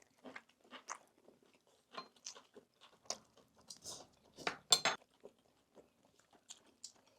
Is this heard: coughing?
no